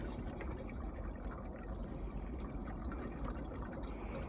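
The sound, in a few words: pouring 99% alcohol into homemade washer fluid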